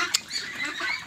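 Meat ducks kept in a pen on dry bedding make a steady mix of honking, quacking calls that overlap into a continuous flock chatter, with one brief sharper call near the start.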